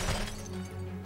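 Glass shatters in the video game Secret Service, a brief crash with scattered tinkling debris over a low game background hum, fairly quiet and short.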